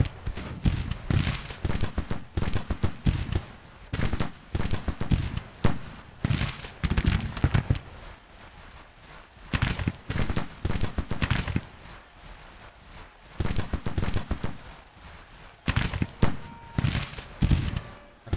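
Civil War–era rifles fire a volley on command, with scattered and clustered sharp shots cracking irregularly over the whole stretch, loud and close, with brief quieter gaps between bursts.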